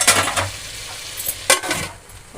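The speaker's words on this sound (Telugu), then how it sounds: "టమాటా వేసుకొని మంచిగా కలిపి మూత పెట్టేసుకొని సిమ్లో పెట్టుకోవాలి" Tomato is stirred into sizzling chicken biryani masala in a pan, with a spoon scraping and clinking against the metal in a few quick strokes over a steady frying hiss.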